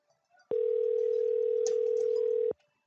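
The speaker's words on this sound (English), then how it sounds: "You hear my cell phone ring as I call myself." An outgoing call to a cell phone produces one steady ringback tone that lasts about two seconds, clean and unbroken, with short quiet gaps before and after.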